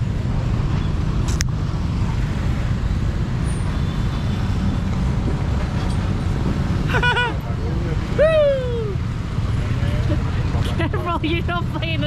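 Steady, fairly loud roar of Jakarta street traffic near a street market, with a continuous low rumble of cars, buses and trucks, brief horn-like or brake tones, and some voices mixed into the din.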